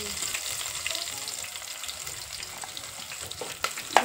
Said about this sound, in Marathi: आता टाकू याच्यात कांदा. आता मिरची टाकून घेतो.